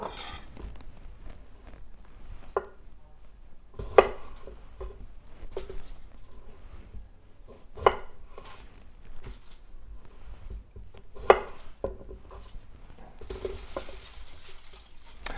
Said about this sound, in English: So let's just cut these in half.